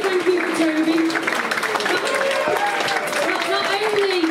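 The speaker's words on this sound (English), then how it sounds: "So we're going to have an extra round of applause for Toby for me." An audience applauds in the open air for Toby, a helper at a Doctor Who fan gathering on Hilbre. The clapping is steady and busy and runs the whole time beneath a person talking.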